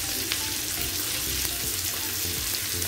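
Steady, dense sizzling of carrots frying in a hot pan, continuous and close, with faint stirring scrapes and no talking.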